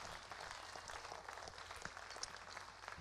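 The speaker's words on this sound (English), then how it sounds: "Big round of applause for yourself" Audience applause at a percussion concert, a steady wash of many hands clapping, faint and somewhat distant, with no talking over it.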